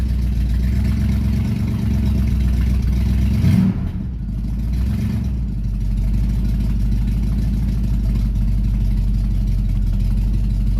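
A 1969 Buick Skylark GS 350 engine runs at a steady, close, low idle hum throughout, with a slight dip and wobble in the middle and no talk over it.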